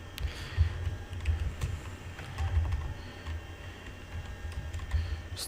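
Rapid, irregular clicking of computer keyboard keys being typed continuously at close range, with a low steady hum beneath the taps and no talking.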